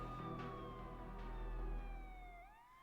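An ambulance siren wails, its pitch sliding steadily downward as the vehicle passes nearby, alone and fairly clear over low rumbling traffic.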